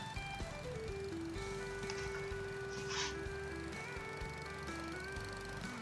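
A small riding mower tows a roller in Farming Simulator 25, its faint engine holding a steady whining tone with slight pitch shifts and no talk.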